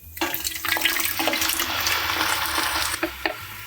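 Canned crushed tomatoes slide and splash thickly into a pot, a wet glugging pour with a couple of soft knocks from the can near the end.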